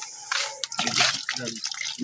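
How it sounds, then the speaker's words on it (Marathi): Dirty, sewage-contaminated water gushes and splashes from a household tap in a brief, uneven rush, loud and close. "हे बघा, असं घाण पाणी येऊ राहिला"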